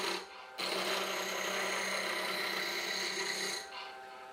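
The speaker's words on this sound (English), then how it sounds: "I'm going to start on the live center end and just rough this thin spindles around." Wood lathe roughing a thin spindle with a spindle roughing gouge, a steady buzzing whir with a scraping cut that starts abruptly, holds for about three seconds and drops back to the quieter motor hum.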